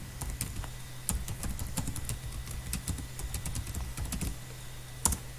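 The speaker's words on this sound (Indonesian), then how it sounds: "Saya akan mengisinya mulai mengetik laporan." Rapid typing on a computer keyboard while filling in a report cover in Microsoft Word, with quick irregular clicks and a few louder keystrokes close by, no talking.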